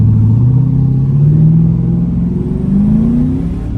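A 1985 Chevrolet C10 squarebody pickup revving hard as its wheels spin, with a loud, close, low engine note that climbs steadily in pitch across the clip, no speech over it.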